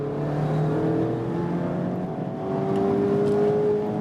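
Mazda MX-5 Miata facelift accelerating hard in second gear toward about 6,500 RPM on the Transfagarasan mountain road, the engine note rising steadily in pitch and loud throughout.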